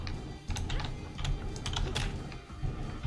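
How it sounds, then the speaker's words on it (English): A computer keyboard is hammered rapidly during a game of STRAFE, with dense, irregular clusters of close, loud key clicks over a low background hum. "I'm pressing like everything on the keyboard"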